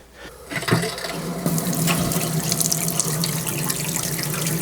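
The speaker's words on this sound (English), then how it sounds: "there was no aerator, so it doesn't like come out with air in it, if that makes sense. And so it splashes a lot." A faucet with no aerator gushes into a sink, water turning on after a brief pause and then splashing loudly and steadily up close.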